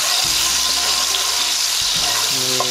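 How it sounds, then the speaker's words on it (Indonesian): Shrimp paste (terasi) frying in hot oil outdoors, a loud, close, continuous sizzle with crackling bubbles and a few stirring bumps, no one talking. "Ini makanya kita goreng terasi di luar."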